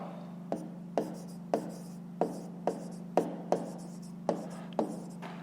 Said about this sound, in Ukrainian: Давайте я тут запишу